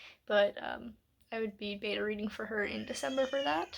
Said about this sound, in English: Excuse the cat screaming in the background.